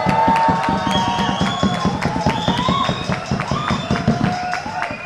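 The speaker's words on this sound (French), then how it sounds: "Je crois qu'on peut aussi applaudir Andrea qui est là depuis 3 jours." An audience applauds Andrea at a results ceremony for a district challenge and fondue pot throwing contest, with dense, steady clapping from a crowd mixed with a few whistles and cheers, sustained throughout.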